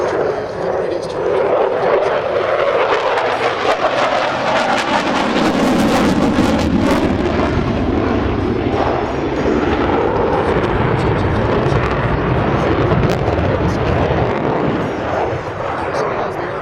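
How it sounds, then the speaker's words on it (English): Boeing F/A-18 Super Hornet jet flying a tight 90-degree-bank minimum radius turn at an airshow, a loud continuous roar that swells and sweeps across the whole clip, with an announcer talking over it. "The aircraft will roll into a 90-degree angle of bank to a thin radius turn."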